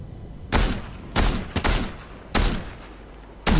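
A charge shotgun fires in Fortnite, with five sharp, loud blasts at irregular intervals, two of them close together. The shots stand alone over low game ambience.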